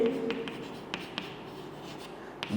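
Marker or chalk strokes scratch across a classroom board in short bursts, a few sharper taps among the soft rubbing, fairly close and quiet with no talking.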